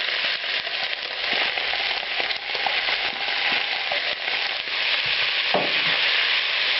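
Onions and tomato puree for a Spanish sofrito sizzle and crackle in a hot pan, a dense steady frying hiss with occasional stirring scrapes and a brief louder spatter near the end, no talking.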